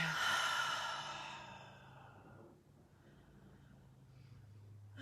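A slow, breathy exhale during pranayama yoga breathing, loud and close at first with a soft airy hiss, then tapering away into quiet room tone.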